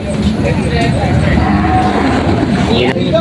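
Water buffalo lowing rises over a loud, busy background of crowd noise and murmuring voices, continuous throughout, at a livestock auction market in Lucena, Quezon.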